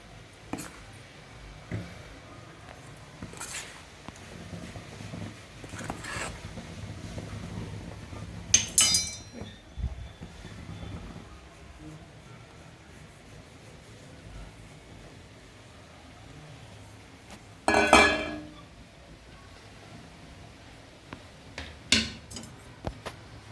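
A spoon drops ragi flour into a pot, giving a few sharp metallic clinks spread apart over a quiet background, two of them louder knocks near the middle and later.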